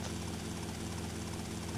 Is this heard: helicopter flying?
yes